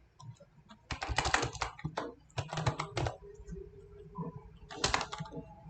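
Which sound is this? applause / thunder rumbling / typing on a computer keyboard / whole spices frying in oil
typing on a computer keyboard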